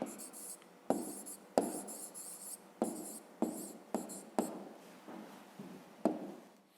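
Pen or pencil writing a math answer by hand on paper, a series of short scratchy strokes and taps with brief pauses between, close and fairly quiet with no talking.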